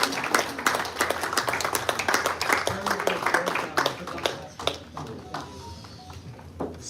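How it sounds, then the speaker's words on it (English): Audience applause at a Star Sports Derby lunch for Team Romeo Command and young Bo, a dense run of clapping that carries on steadily and thins out slightly toward the end, with some voices mixed in. "a big warm round of applause for Team Romeo Command and young Bo especially"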